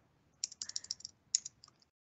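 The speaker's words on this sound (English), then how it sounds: "I'll just type it here so everyone can see" A short burst of typing on a computer keyboard, quiet and close: a quick run of key clicks, a brief pause, then a second shorter run, with no talking.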